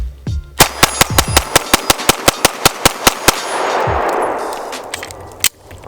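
Rapid burst of sharp, metallic clanging shots from an Archon Type-B blaster, about fifteen evenly spaced cracks in quick succession, followed by a fading whoosh and one last isolated clank.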